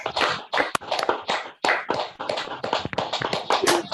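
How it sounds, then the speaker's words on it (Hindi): Group of people clapping hands together during an online meditation session, a loud uneven patter of many overlapping claps running steadily for several seconds, close and without talk. "तो मास्टर्स अनम्यूट करके ताली बजाएं"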